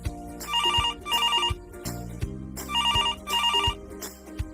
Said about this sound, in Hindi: उसने अपना मोबाइल फोन निकाला और अपने पड़ोसी को कॉल किया। रिंग जा रही थी।